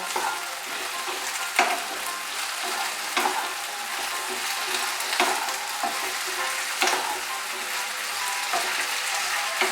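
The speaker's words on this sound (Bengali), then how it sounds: "দিয়ে একটু নাড়াচাড়া করে নেব।" Flat beans sizzle and fry in a pan while a utensil stirs them, with a steady hiss broken by regular scraping strokes, close and moderately loud, no talk.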